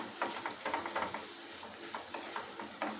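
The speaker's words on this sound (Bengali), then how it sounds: "চিকেন দিয়ে ভালো করে নেড়ে কষতে দেবো।" Chicken stirred and fried in a kadai for kadai chicken, a close, steady sizzle broken by repeated spatula scrapes and stirring clatter at an uneven rhythm.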